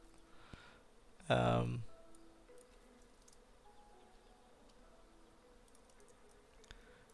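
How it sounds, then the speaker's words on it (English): Crickets chirp in the beekeeping video game Hive Time, a brief buzzing insect burst near the start followed by faint, sparse chirps over a quiet game background. "There's our crickets."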